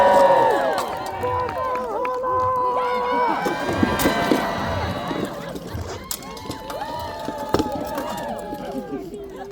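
A renaissance fair audience cheers and shouts through a staged sword fight, with a lively crowd roar, scattered clapping and a few sharp clashes while people talk over it.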